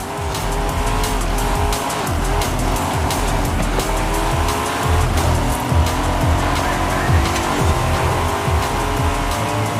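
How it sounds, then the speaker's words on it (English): Racing car engine in Forza Horizon 5 revs and chugs loudly and continuously, with tire squeal and skidding mixed in as the car is driven hard. "with the rev and the chug of an engine standing out to me as one of the most exciting elements in that regard"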